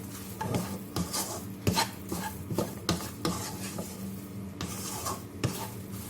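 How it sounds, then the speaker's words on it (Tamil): Soya chunks (meal maker) fried with tomato being stirred with tomato sauce in a pan, a spoon scraping and clinking against the metal in irregular strokes over a faint sizzle, close and alone without talk. "இப்போ நம்ம தக்காளி சாஸை நல்லா மிக்ஸ் பண்ணிடுவோம் மீல் மேக்கரோட."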